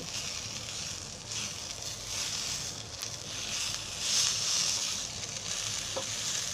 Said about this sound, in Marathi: आता त्याच्यामध्ये ही अद्रक लसूणची पेस्ट टाकते आणि चांगली भाजून घेते